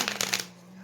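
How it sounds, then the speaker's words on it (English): A brief riffle of tarot cards being shuffled, a few quick papery flutters that stop and leave a faint hum. "I'm going to shuffle one more time just for a good measure"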